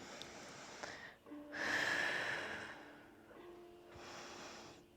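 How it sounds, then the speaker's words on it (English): Slow, deep breaths during a Pilates core class, two long airy inhale-exhale cycles close to the microphone, soft and unhurried, with no speech. "2 deep breaths."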